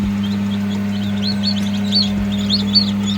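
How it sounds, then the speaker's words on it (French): Newly hatched chicks in an incubator give short, high, repeated peeps in quick bursts over a steady low mechanical hum. "Donc vous voyez, un poussin qui est en train de sortir."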